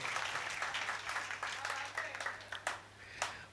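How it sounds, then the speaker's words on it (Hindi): Applause from an audience at a mushaira poetry gathering in Bhiwandi, a steady patter of clapping with a few sharper bursts, moderately distant and fairly soft. "तो एक बार जोरदार तालियां हो जाए सब शोरा के लिए।"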